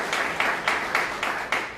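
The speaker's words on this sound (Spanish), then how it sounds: "Un fuerte aplauso" Applause from an audience at a Zamora ufology conference, a steady broadband patter of many hands with slight rhythmic surges, fairly close and moderately loud, no talk over it.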